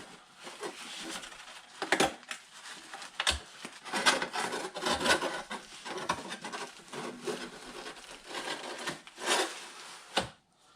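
Old insulation panels being pulled and torn off the engine cover of a VW T3, heard as close, irregular rubbing and scraping with several sharp tearing bursts, no speech over it.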